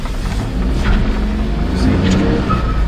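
A mini truck's engine hums steadily at low pitch as it drives in high gear, a continuous close drone with slight swells and no speech over it.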